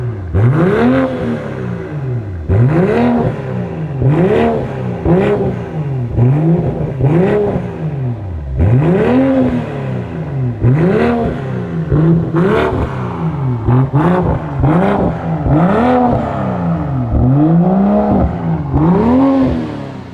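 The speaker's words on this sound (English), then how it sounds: "So I'm gonna give you guys some rev." A BMW 340i engine revved repeatedly, rising and falling in quick successive bursts, loud and close, with a raspy exhaust note.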